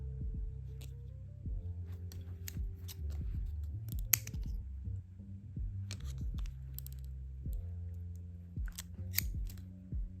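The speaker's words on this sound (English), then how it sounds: "So I just made this mark with my scissors." Scissors scratch and snip at plastic on a fake Beyblade in repeated short bursts, crisp and close, with no talking.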